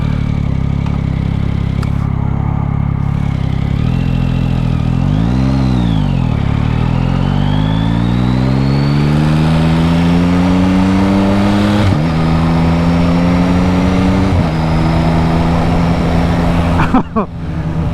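Yamaha MT-09 SP motorcycle engine under way on a 2025 first ride, steady loud drone with rising and falling revs, a dip and swell of throttle, then pitch climbing through gears, wind rush throughout.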